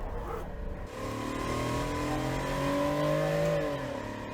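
A race car in the Assetto Corsa sim revs up through its gears, a steady engine drone rising in pitch with a brief dip at a harsh one-to-two shift, loud and continuous throughout.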